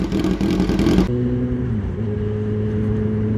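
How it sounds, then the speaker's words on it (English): Custom Honda CBR900RR Fireblade with a loud race exhaust, a harsh crackling rev at first that abruptly drops to a lower, steadier idle rumble, close and loud with no voices. "the race fit system was really loud"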